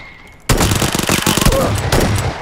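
Gunfire from a battle royale game erupts suddenly after a short quiet hum: a loud, close burst of rapid shots in quick succession, with faint voices mixed in.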